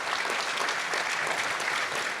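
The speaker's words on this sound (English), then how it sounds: "Let's give him a round of applause." Steady, full applause from a gala crowd for a student panelist, an even, continuous patter of many hands throughout the short burst.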